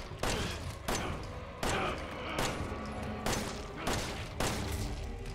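Gunfire from shooting an enemy in Resident Evil 7, about seven loud, evenly spaced shots, each with a sharp attack and a decaying tail, over a constant game background.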